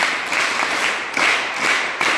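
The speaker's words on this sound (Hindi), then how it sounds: "जोरदार ताली बजा दो इनके लिए।" Audience applause at an Arya Veer Dal camp gathering, a dense steady wash of many hands clapping close by, with brief swells in intensity and no voices.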